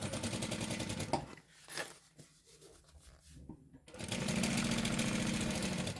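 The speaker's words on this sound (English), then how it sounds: "so that now I'm sewing the lining to the actual gusset piece that we just put on" Sewing machine stitching a lining onto a gusset piece: fast steady needle chatter, near and loud, stopping for a couple of seconds of quiet handling before running again.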